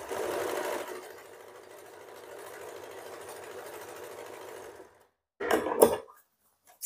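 Fabric is being stitched on what sounds like a sewing machine: a steady whirring hum runs for about five seconds and then stops. After a brief gap comes a short burst of louder handling clatter.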